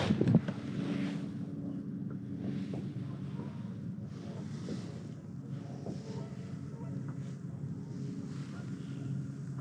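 Wind blows over open water around a fishing boat while crappie fishing, a steady low rumble and hiss of microphone buffeting, continuous and moderately loud for about ten seconds, with no voices.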